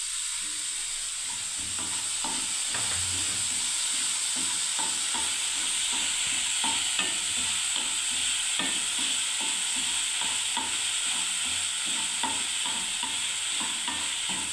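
Soaked flattened rice (poha) being stir-fried in a pan, a continuous close sizzle with rapid rhythmic scraping and stirring strokes throughout, no voices.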